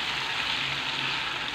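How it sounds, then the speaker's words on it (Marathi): Ginger and coriander paste frying in hot oil, a steady, close, even sizzle throughout with no talking. "पेस्ट घातल्यावर आपल्याला ही पेस्ट तेलामध्ये छान परतून घ्यायची आहे।"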